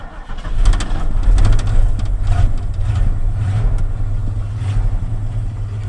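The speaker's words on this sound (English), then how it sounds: "There's that rough idle." A flooded 1980 Ford F100 pickup truck engine cranks and catches during a warm start, then settles into a loud, steady, rough and uneven idle with a continuous low rumble.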